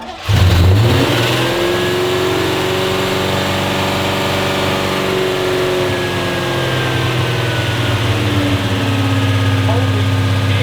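A Holden 253 V8 with Holley Sniper EFI fires instantly and settles into a loud, steady high idle with rising revs, the engine rumbling close and continuously for about ten seconds.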